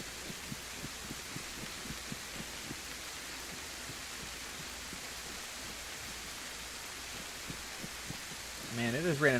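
Heavy rain falls steadily in the survival game DayZ, a dense constant hiss with soft patter throughout, faint and even, with a brief louder burst of other sound near the end.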